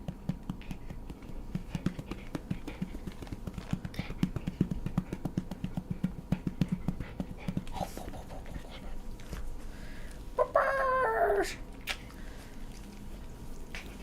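A dog pants and chews close by indoors in a steady, rapid rhythm, with a brief higher whine or voice near the end.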